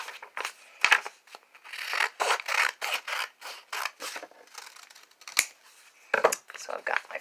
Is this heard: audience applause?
no